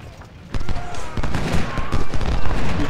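Rapid bursts of rifle fire crackle in an Ultimate General: Civil War battle at Fredericksburg, dense and overlapping, with a shouting voice mixed in throughout.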